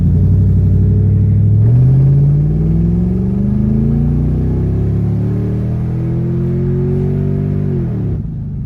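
A V8 engine in an old luxury car revs loudly and steadily in first gear, its deep rumble rising in pitch for several seconds before it drops off near the end, with no talking.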